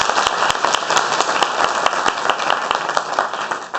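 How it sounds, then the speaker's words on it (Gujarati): An audience at a Diamond Jubilee Jalaram prasadi gathering applauds warmly: a continuous, fairly loud wash of many hands clapping, with sharper individual claps standing out, and no talk over it. "આપણે સૌના તાળીઓથી વધાવી દઈએ"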